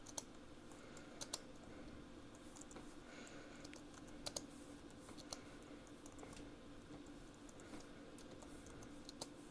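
Typing on a computer keyboard during a VR sim racing session, quiet rapid key clicks in several short bursts with a few louder taps, heard close over a faint background hum.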